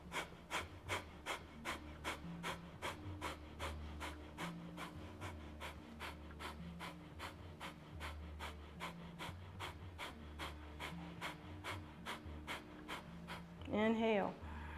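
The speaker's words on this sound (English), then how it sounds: "All right, 30 more rounds of breath of fire." Rapid kundalini yoga breath of fire, a long run of sharp, evenly spaced nasal exhalations, about two per second, close and steady for the whole stretch, with a brief voiced breath near the end.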